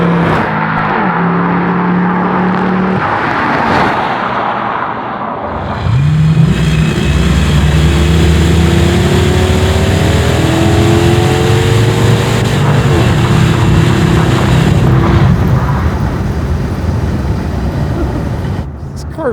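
A custom garage-built, slammed 1963 Lincoln Continental with an LS V8 engine accelerates, its loud engine note climbing through the gears as it pulls away, heard close and continuous over the whole stretch.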